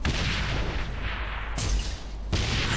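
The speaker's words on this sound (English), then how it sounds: "Grenade." A grenade goes off in Saints Row The Third with a heavy, booming blast, followed by a second sharp explosive burst a moment later, both close and fairly loud.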